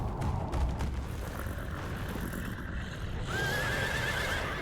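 A horse in a Halloween-themed video game gives a loud, strained neigh as it dies, the shrill whinny rising clearly near the end over rumbling game background noise, with no talking.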